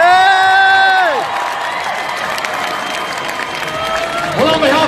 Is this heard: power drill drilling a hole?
no